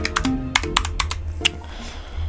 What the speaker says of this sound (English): now once you're done typing your name